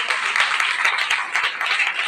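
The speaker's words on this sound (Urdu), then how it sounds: "زوردار تالیاں" A church congregation at a Sunday meeting breaks into loud, dense applause, many hands clapping close and continuously without pause.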